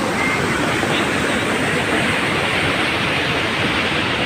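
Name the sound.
Dhuandhar waterfall on the Narmada river, Jabalpur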